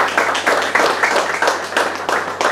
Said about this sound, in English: So a round of applause, Mike, for Mike and everybody else